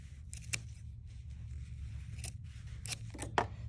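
Scissors snip through fabric binding in a few quiet, separate cuts, faint and close, over a low room hum.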